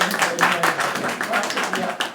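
An audience at an Urdu and Sindhi mushaira claps for a guest poet, a dense, steady patter of many hands, fairly loud and close, with some voices audible underneath.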